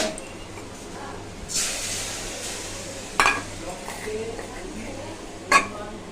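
Whole cumin, bay leaf, dried chilli and cinnamon hit a little hot oil in a pan for a soybean curry, bursting into a brief loud sizzle that settles to a low hiss, with two sharp clinks of a utensil against the pan.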